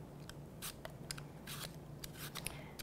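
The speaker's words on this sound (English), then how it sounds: "and then you're gonna peel it." A Fuji apple being peeled, giving a series of short, crisp scraping and shaving strokes in uneven bursts against a faint low hum, fairly close and quiet.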